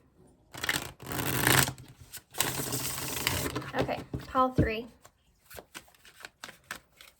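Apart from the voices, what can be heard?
shuffling tarot cards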